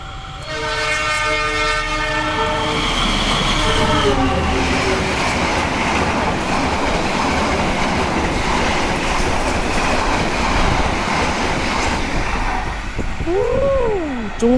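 Extra passenger train on the Indonesian line hurtling past at full speed near 120 km/h, a loud continuous roar of wheels on rails opening with a sustained horn blast, close by and steady throughout.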